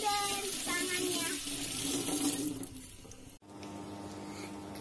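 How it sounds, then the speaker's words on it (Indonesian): Tap water runs steadily over soapy hands being rinsed at a sink, close and continuous, then briefly cuts off before flowing again. "Siram deh tangannya."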